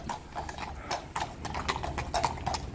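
Horse hooves clip-clop at close range in a steady, uneven rhythm of sharp knocks over low background rumble, with no talk over them.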